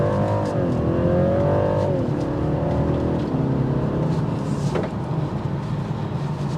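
A 2023 BMW 330e plug-in hybrid sedan accelerating hard with its extra boost, the engine note rising steadily and loud from inside the cabin with no talk.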